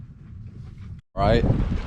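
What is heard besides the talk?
wind blowing into microphone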